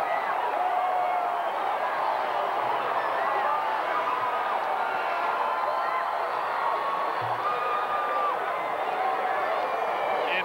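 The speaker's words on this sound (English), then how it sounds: "you can feel the emotion just surging through the crowd" A large stadium crowd at a 1995 state championship high school football game roars steadily after a fumble turnover, with continuous cheering and whoops at a distance and no break.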